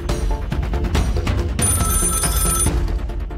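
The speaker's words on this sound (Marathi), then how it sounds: "नक्कीच रावसाहेबचा फोन असणार" A telephone rings in a Marathi TV drama scene, its bright bell trilling in rapid repeated bursts that fill the short moment, loud and close with no voices over it.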